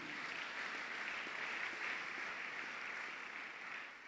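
A church congregation applauds to acclaim Jesus during a service, a steady wash of clapping from a crowd that holds for several seconds.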